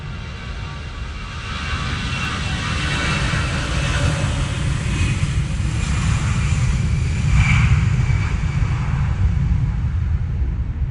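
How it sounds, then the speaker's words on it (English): An EasyJet airliner passes over Manchester Airport with a steady, loud roar that swells slightly toward the end and holds for about eleven seconds, with no voices. "And that's an EasyJet to somewhere hotter."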